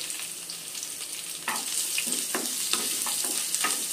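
Crushed garlic fries in a pan for a lady's finger stir-fry, a continuous close sizzle that grows louder partway through, with occasional sharp stirring scrapes.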